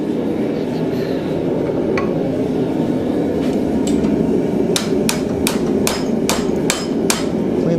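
A blacksmith strikes hot metal at a campfire forge, leading to a quick series of about eight sharp, ringing hammer blows near the end over a constant roaring background.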